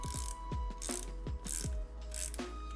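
Ratchet wrench cranking down the primary drain plug on a Harley-Davidson Sportster 48, about five rhythmic clicking strokes, close and crisp with no talking.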